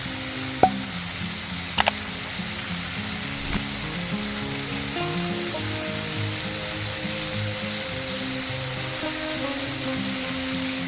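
Fish frying in hot oil for a Bengali fish curry, a steady close sizzle and crackle with a few sharp pops and clicks near the start, no voices.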